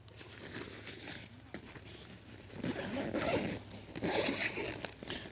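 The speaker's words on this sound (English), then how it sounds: "And that zipper works pretty nicely as well." A bivy tent zipper is pulled in short rasping bursts, close and fairly quiet, with soft fabric rustling between pulls.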